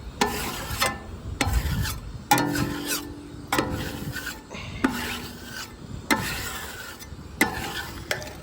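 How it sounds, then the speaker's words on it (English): A metal scraper drags across a flat-top plancha griddle in repeated rasping strokes, about a dozen in a steady rhythm, close and loud, with faint sizzling between passes and no speech. "Scrape all this off, because this will affect how clean we get this bad boy."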